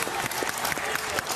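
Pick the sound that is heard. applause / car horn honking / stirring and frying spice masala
applause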